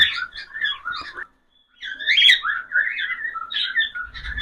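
Pet cockatiels give repeated shrill whistling calls and squawks in bursts, close and fairly loud, with a brief quiet gap partway through.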